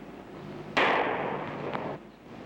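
A single Beretta pistol shot: one sharp, close report followed by a bright ringing decay lasting about a second, with a faint second tick during the tail.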